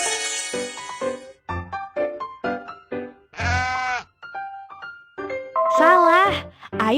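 A cartoon goat bleats in a wavering, trembling cry at a children's hearing test. It comes in a couple of loud bursts over a lively musical backing, with voice-like sung notes mixed in.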